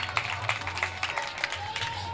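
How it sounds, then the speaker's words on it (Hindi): A comedy poetry show audience applauds with dense scattered clapping, moderately loud, with a faint tone and some murmuring underneath. "ताली होती है।"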